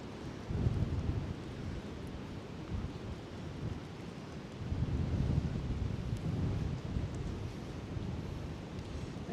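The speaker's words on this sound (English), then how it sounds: "Welcome to a very windy Prospect Park." Strong wind gusts roar across the microphone in Prospect Park, a constant low rumbling buffet that swells louder midway through.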